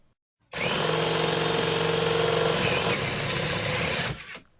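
A HyperTough brushless drill from Walmart runs at high speed on a homemade dyno, giving a loud, steady, close-up motor whine that holds for about four seconds before spinning down.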